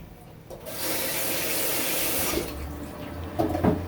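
Tap water runs into a sink while a colander is rinsed after cooking dry pasta, a strong steady splashing rush that starts after a brief clatter, then eases into lower, fuller pouring with a few knocks near the end.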